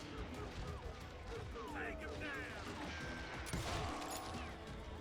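Gunfire in the Western shooter Call of Juarez: Gunslinger, a dense burst of cracks and impacts over busy game music and effects, with a voice talking across it.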